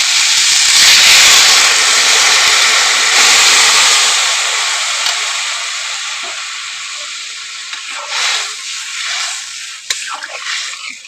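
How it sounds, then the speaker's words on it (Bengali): Water poured into a pan of hot, well-fried spice mixture bursts into a loud hissing steam, which slowly dies down into a softer sizzle toward the end. "এবারে দিয়ে দেবো আমি জল"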